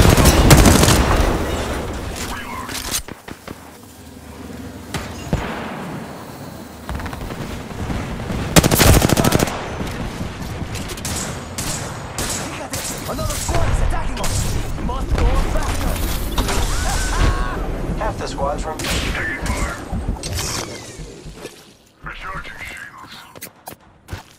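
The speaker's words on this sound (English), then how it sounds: "I am taking fire, friends." Rapid automatic gunfire and mechanical weapon clatter in the Apex Legends video game, loud and dense through most of the stretch with bursts and creaks, under scattered in-game voice callouts.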